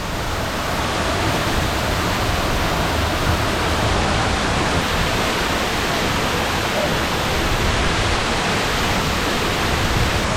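A waterfall roars with a dense, constant rush of falling water, loud and close, filling the whole stretch without a break.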